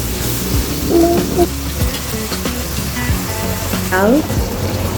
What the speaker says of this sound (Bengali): তেলে অল্প পরিমাণে পেঁয়াজ রসুন বাটা